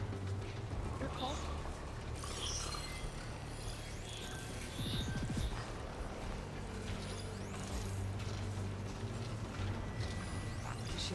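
Robotic machines move about in Horizon Forbidden West: a steady mechanical clatter of gears and creaking parts over a low rumbling bed, with voices faintly present.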